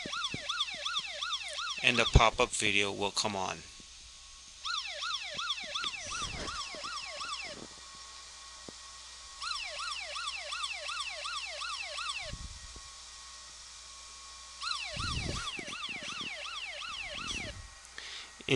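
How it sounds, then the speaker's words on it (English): A security software alarm siren, set off when a geofence alarm triggers, wails in rapid rising-and-falling bursts that repeat about four times with quiet gaps between them. A voice speaks briefly early on. "once the alarm is triggered, you will hear the siren go off"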